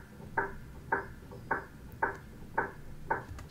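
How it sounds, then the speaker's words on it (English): Piano action noise as keys strike the key bed and hammers hit strings, captured from beneath the instrument: six evenly spaced soft thuds about half a second apart, close and dull, over a faint hiss. "it's the sound of the key hitting the key bed, and maybe the hammer hitting the string also."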